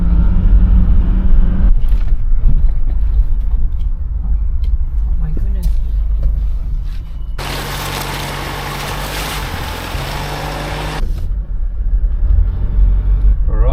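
2.8 LandCruiser driving on a dirt road on Tasmania's west coast, a continuous low rumble of engine and tyres on gravel, with a brief louder burst of broadband noise midway.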